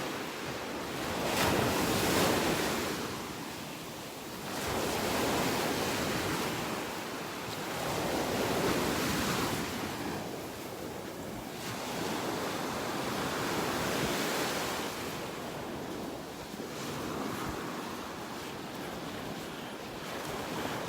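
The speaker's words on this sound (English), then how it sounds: "The waves lapping on the shore." Gulf of Mexico surf at a beach in North Naples, Florida, waves washing onto the shore in slow surges every few seconds, with wind noise across the microphone and no talking.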